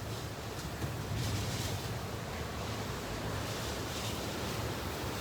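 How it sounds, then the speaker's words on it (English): Hurricane Ida gusts roaring past, a loud, continuous rush of wind hammering the microphone, swelling slightly in surges over several seconds, with no voices over it. "Winds are starting to gust to 90 miles an hour here"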